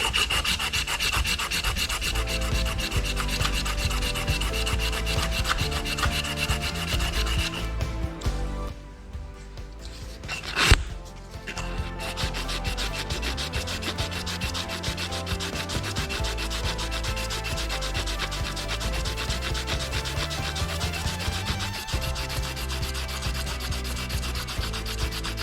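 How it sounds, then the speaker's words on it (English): A brass shifter rod for a custom Sportster is sanded by hand with emery cloth in a steady scraping rub that runs almost the whole time, broken by a brief pause near the middle. "With brass being a soft metal, it's not going to take long whatsoever just to do it with the emery cloth"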